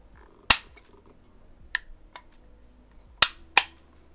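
AK rifle handled with a trigger pull and safety manipulation, heard as four sharp, loud metallic clicks and clacks spaced irregularly, close up in an otherwise quiet setting without speech.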